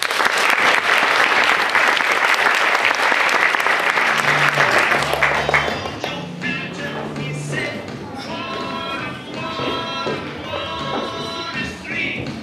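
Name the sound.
applause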